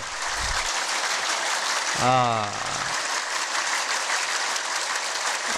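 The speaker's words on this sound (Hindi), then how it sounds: "एक मिनट तक ताली बजाओ जोर से" A group at a yoga camp claps hard and continuously as an acupressure exercise, making a steady, dense patter of hands throughout, with a brief voice calling out partway through.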